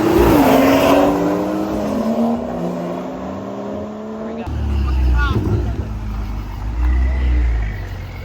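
Cars race and accelerate hard along a New York street, engines revving and rising in pitch before a loud car sweeps past up close, with people talking excitedly over the roar.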